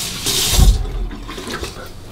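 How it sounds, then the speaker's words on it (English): Tap water splashing as a face is rinsed after a safety razor shave, a short, loud burst of running water and splashes up close. "I'll just do a final rinse."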